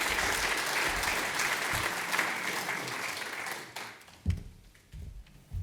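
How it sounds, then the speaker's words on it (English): A conference audience at an oil and gas industry event applauds speaker Achilles with a full round of clapping that thins out and fades toward the end, followed by a few soft knocks or handling sounds. "So round of applause, please, for Achilles."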